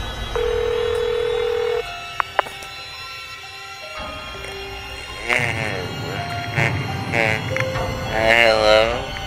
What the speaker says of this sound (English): The phone is actually ringing.